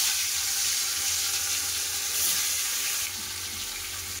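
Fish frying in hot mustard oil in a pan makes a dense, steady hiss and sizzle that fills the whole clip at an even, fairly loud level, with no talk.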